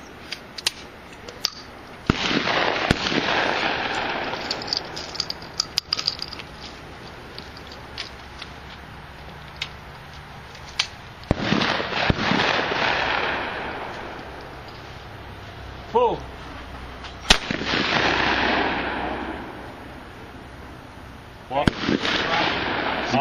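Shotgun blasts ring out at an outdoor skeet shooting range, several loud reports spaced seconds apart with long echoing tails, with people talking between shots.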